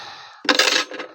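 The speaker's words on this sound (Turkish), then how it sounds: "Demir parçası düştü." A small piece of iron drops and clatters sharply on a hard surface, a quick burst of ringing clinks that dies away within a second.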